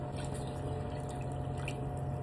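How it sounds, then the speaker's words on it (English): Water running steadily from a kitchen tap into a can, a continuous even rush at close range with no talking over it. "Now I'm gonna fill this up with water"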